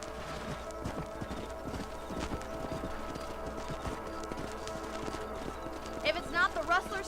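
Horse hooves clip-clop at a steady riding pace in the Red Dead Redemption video game, rhythmic thuds under a soft ambient bed, with a brief whinny near the end.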